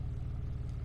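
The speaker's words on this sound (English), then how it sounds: "The idle is quite nice." A car engine idles with a low, steady, even rumble that pulses faintly. It is quiet and brief, with no voices over it.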